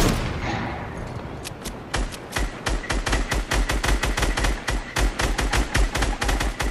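Rapid automatic gunfire from a battle royale-style video game bursts in dense, loud volleys, a quieter stretch at first followed by sustained fast shots close by for several seconds.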